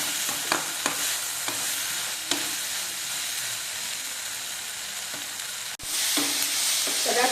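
Curry leaves frying with tomato in a pan for kara chutney give a steady, loud sizzle and hiss, with a few sharp pops and spoon stirs, and a brief break near the end before the sizzling resumes.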